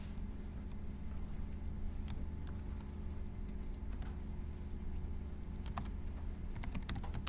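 Computer keyboard clacking steadily as code is typed, a quiet continuous patter of keystrokes with a few sharper taps near the end, no talking over it.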